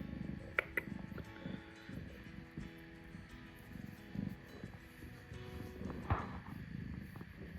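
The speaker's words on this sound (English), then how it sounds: "Oh, you purring." A soft, steady purr rumbles close by and quiet, continuing throughout with faint small movements and no talking.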